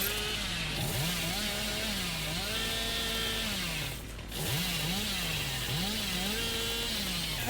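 Hillbilly's chainsaw in the game Dead by Daylight, a steady buzzing motor drone with rising and falling revs that swoop in repeated arcs, loud and continuous with a brief dip midway.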